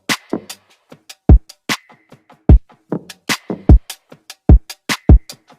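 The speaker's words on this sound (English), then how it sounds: "That's the foundation of the drums." Full drum pattern for a pop beat, with punchy kicks, crisp snares and claps, and ticking hi-hats and percussion in a steady loop, loud and alone with no talk.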